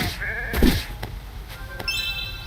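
Sheep in the Holoearth video game give short, nasal bleats, a couple of quick calls close up over a faint hum of game sound.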